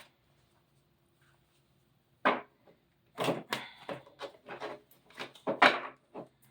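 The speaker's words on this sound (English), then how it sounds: "And that was not great shuffling." Quick papery riffles and flicks of a deck being shuffled, several bursts in a row after a quiet start, close by.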